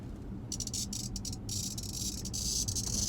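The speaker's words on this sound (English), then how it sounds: "that's what a cicada sounds like." Cicadas calling in loud, buzzing bursts: a steady rasping drone that starts and stops several times before settling into a continuous shrill whine, close by over a low rumbling background.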